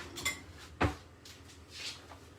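A spoon scrapes and clinks against roasted butternut squash in a dish, making a few quiet, separate knocks and scrapes, one sharper clink standing out near the middle.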